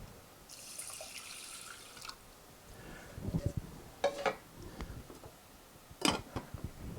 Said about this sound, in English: so I'm putting in a cup of water.